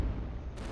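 A cannon in the iBomber Defense tower-defense game fires a single deep, heavy boom, with a short rumbling blast that fills the whole brief moment.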